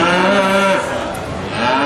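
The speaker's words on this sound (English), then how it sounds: "I know that the cattle are over here, so let's head over to the cattle pavilion" Cattle moo in a livestock pavilion at the Sydney Royal Easter Show, with one close, loud, low drawn-out bellow followed by a quieter stretch of barn ambience.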